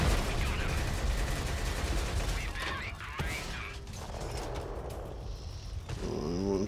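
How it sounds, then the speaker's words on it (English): Tank machine gun firing in World of Tanks, an AMX 30B2 on the Dezful map, heard as dense continuous gunfire and battle noise throughout, with a few sharper impacts and a mechanical whine near the end. "We machine gun him."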